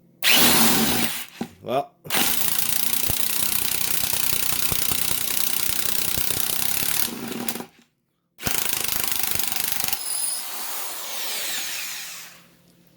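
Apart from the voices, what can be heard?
impact driver with DeWalt bit driving a Tapcon screw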